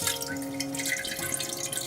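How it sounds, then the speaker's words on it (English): Water drips and trickles from wet felt being squeezed out under a tap, giving a steady close splashing patter with a faint running-water hum beneath. "just squeeze out as much of the water as you can"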